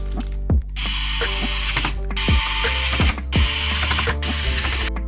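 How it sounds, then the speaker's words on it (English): Close, rhythmic ratcheting and whirring of a driver seating screws into the front bezel of a Lenovo ThinkCentre all-in-one computer, in several sharp bursts separated by brief gaps, with no voices. "Now let's install the front bezel and also the screws for the front bezel."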